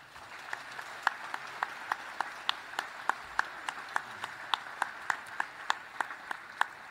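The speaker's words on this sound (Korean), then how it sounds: "큰 박수 부탁드립니다" Steady applause from a modest crowd at a Constitution Day ceremony in the South Korean National Assembly, the claps distinct and evenly spaced, with no voices over it.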